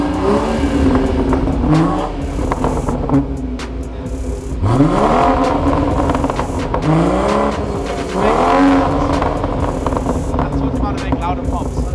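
Modded Audi S3 revving and accelerating hard with a loud, continuous engine roar, rising pitch sweeps as it climbs through gears, and crackling exhaust pops between pulls, close and loud throughout.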